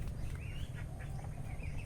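Pet ducks in a muddy pen after a week of rain, a few soft quacks rising over a dense, steady outdoor background noise, fairly faint and brief.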